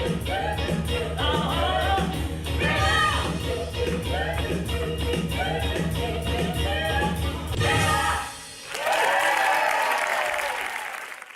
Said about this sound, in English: There's that applause track we need.